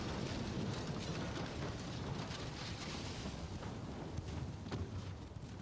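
A torpedo strikes the side of a battleship in the naval warfare game Ultimate Admiral: Dreadnoughts, giving a long, dense roar of explosion and rushing water that stays loud and steady throughout, with no speech.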